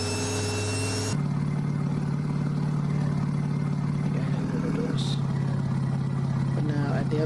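American Truck Simulator Battle Truck mod engine revving around 3,000 rpm, a sustained loud drone that shifts pitch after an abrupt cut, with brief speech.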